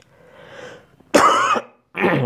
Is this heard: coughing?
yes